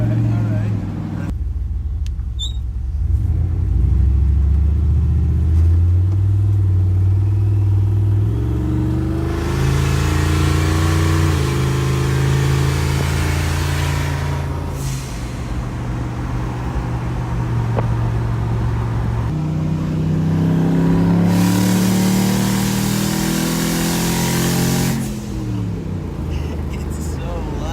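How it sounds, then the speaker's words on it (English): A 600 hp turbocharged 6.0 LS V8 in a 1964 Chevrolet C10 Suburban drones and surges through repeated accelerations, heard from inside the cab with a loud turbo wastegate, and voices occasionally come through over the engine. "I don't know if you guys can hear the wastegate on this thing, but it is so loud."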